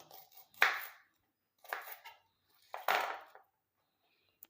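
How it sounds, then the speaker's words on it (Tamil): Knife chopping onion into small pieces on a board, three short separate bursts of cutting strokes close by with quiet gaps between, no talk. "நீங்கள் அப்படியே வந்து வெங்காயத்தை வெட்டி போட்டுக்கலாம் கொஞ்சம் பொடுசாக வந்து கட் பண்ணிக்கோங்க"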